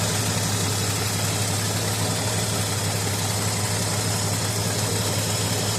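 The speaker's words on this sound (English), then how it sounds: "Idling like it should." A 1982 GMC square body truck engine idles steadily with a low, even rumble and constant vibration, close and loud with no speech.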